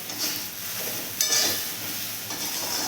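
Idli pieces tossed with magic masala sauté over a low flame, giving a soft continuous sizzle with a couple of brief scraping stirs against the pan, no voices.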